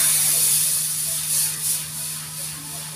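Dal poured into a hot pot of tempering for dal fry, a loud hissing sizzle that fades unevenly over a few seconds.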